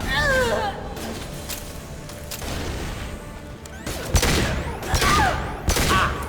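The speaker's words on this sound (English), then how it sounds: "Firing a high-impact shot." High-impact gunshots in the Mass Effect 2 video game: several sharp loud cracks and booms in a quick fight, mixed with game voices and effects.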